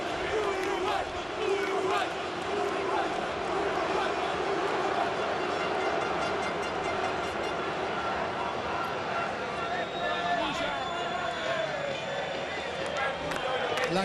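A dense stadium crowd after the Copa America final between Paraguay and Uruguay chants and cheers continuously for Uruguay, a loud, sustained roar with rhythmic singing, with a voice speaking over it.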